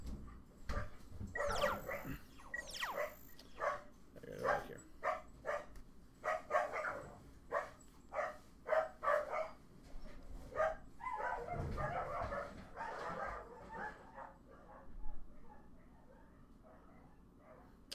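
A dog barks repeatedly indoors, a run of loud, close barks in an uneven rhythm with some yelps, easing off toward the end.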